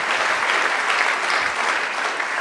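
Church congregation applauding during a Spanish-language service, a dense, steady wash of clapping hands that fills the whole stretch with no talk over it.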